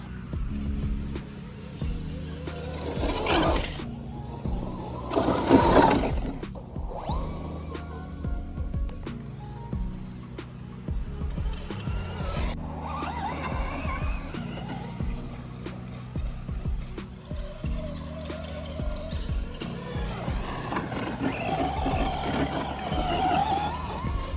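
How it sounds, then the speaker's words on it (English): Traxxas Raptor R electric RC truck pushing through tall grass, its motor whine and rustling grass continuous and close throughout, with a few louder bursts early on. "Here we got the Raptor on some pretty tall grass"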